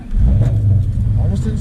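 A Ford Mustang GT engine in cold weather turns over and catches, settling into a loud, close, steady rumble that carries on for the whole stretch, with a voice faintly underneath.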